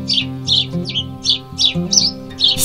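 A sparrow chirps in quick repeated bursts, about eight short calls in steady rhythm, over soft continuous background music.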